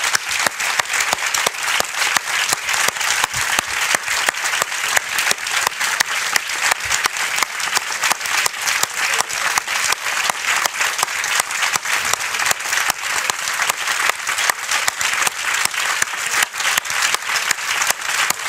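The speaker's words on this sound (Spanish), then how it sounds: "Yo les pido un aplauso para ella" Steady, full-room audience applause for a woman being honoured at a gathering, many hands clapping in an even, pulsing rhythm that carries on without a break for over eighteen seconds, with no talk.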